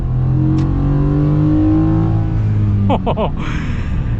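Ford F-150 pickup truck engine pulling onto a highway, a steady loud drone with rising harmonic sweeps as it accelerates, then a brief voice near the end.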